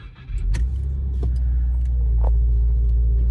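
A 2021 Subaru WRX base model with manual clutch fires up from a cold start, its engine settling into a loud, steady low rumble at close range, with no one talking.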